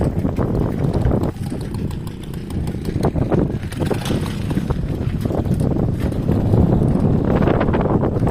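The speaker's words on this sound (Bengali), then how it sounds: "হাওয়া চলছে বলে মেঘ কেটে গেছে।" Wind blowing outdoors buffets the microphone with a continuous loud, rumbling roar that swells and eases in gusts, with no other clear sound over it.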